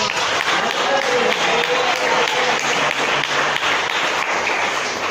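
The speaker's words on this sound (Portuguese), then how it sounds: "Rebate as palmas." A church congregation applauds in a dense, steady wash of clapping that holds for about five seconds, loud and continuous with no talk on top.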